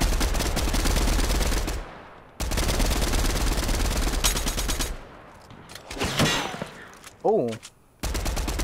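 Rapid automatic gunfire in Fortnite, loud dense bursts of shots in two long stretches broken by short gaps, with a brief voice exclamation and game effects in between.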